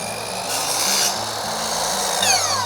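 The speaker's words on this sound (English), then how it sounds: "Now that I've got my mark, I'm going to set my miter to 45 degrees." Power miter saw set to 45 degrees cutting frame wood, a loud steady whining buzz of the spinning blade biting through the board for a couple of seconds, heard alone without talking.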